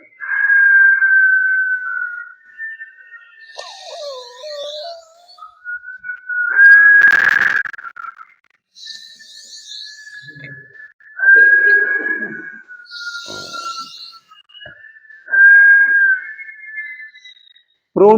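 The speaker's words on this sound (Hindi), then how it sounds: "और मुंह से सीटी बजाते छोड़ना है।" Whistled breath through the mouth in a yoga breathing exercise, long steady whistles repeated several times with short breaks, close and clear, with soft breathy noise between them.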